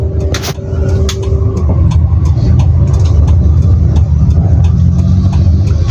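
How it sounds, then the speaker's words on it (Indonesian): Car engine in a manual car held at a steady loud rumble while the clutch is pressed, throttle lifted and the shift made down to second gear, with a few clunks from the controls and no talking. "Sekarang kita akan coba menurunkan ke gigi 2"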